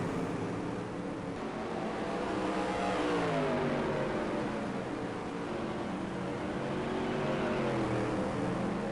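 Supermodified race car engines in the NASCAR Heat sim game at Sandusky Speedway drone steadily throughout, with pitch sweeping up and down as cars accelerate and pass, a continuous loud mechanical whine with no talk.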